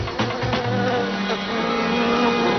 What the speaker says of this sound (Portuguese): Quando o zumbido da última vespa desaparece